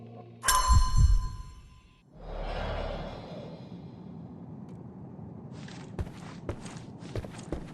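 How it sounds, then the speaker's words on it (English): Footsteps overhead in the video game Sherlock Holmes Chapter One, a few soft thuds after an initial loud impact and rushing sweep, sparse and muffled against a quiet indoor room tone. "I heard footsteps upstairs a second ago"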